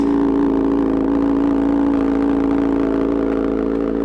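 A 2022 Kawasaki ZX6R sport bike sits idling with a cold engine, a steady, even mid-pitched hum that holds close and constant throughout, with no revving and no voices.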